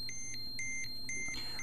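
Ecotest Terra-P Geiger counter alarm sounding in repeated sharp electronic beeps, short pulses in a steady rhythm over about a second and a half, close and clear with no talking.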